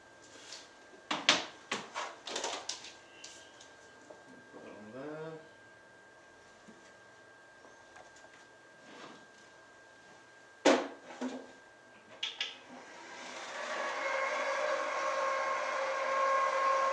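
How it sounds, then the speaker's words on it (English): A die-cutting machine runs as a card template is fed through, a rising steady mechanical whir that fills the last few seconds, after scattered handling knocks and some brief talking. "So let me just quickly put this through the die cut."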